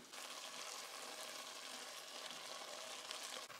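Leftover cooked rice frying in a pan for prawn fried rice, a steady, close sizzle that holds evenly throughout with no talking.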